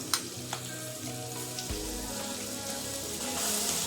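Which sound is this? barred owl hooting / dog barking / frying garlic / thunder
frying garlic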